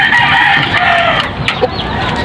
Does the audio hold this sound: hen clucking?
yes